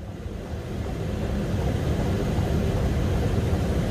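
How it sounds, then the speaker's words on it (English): Steady, loud broadband roar from inside a Boeing 737NG cockpit on approach to a crosswind landing, a dense wind-and-engine rush that swells slightly and holds constant throughout with no voices. "the 737 is one of the noisiest cockpits in the industry, and even more noisy is the windshield wipers."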